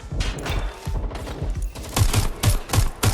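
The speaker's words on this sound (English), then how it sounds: "Suspect shooting. Careful! Shots fired!" Gunfire in the video game Watch Dogs: Legion, a fast, loud burst of shots in uneven volleys that settles into a steady rhythm of sharp cracks near the end.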